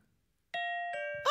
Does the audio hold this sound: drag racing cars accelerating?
no